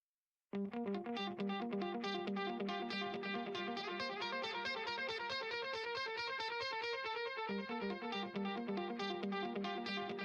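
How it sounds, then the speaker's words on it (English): Electric guitar with a heavy echo and distortion effect in a rock song, loud and sustained after a brief silence, with dense repeating notes smearing into each other throughout. "Love a good guitar echo."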